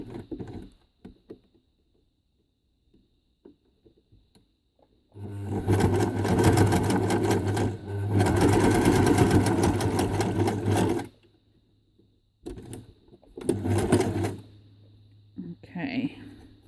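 Sewing machine stitching a coil of scrap fabric rope into a flower, running in two long loud bursts of fast mechanical whirring, then shorter stop-start runs after a pause, with quiet handling clicks between and a voice speaking.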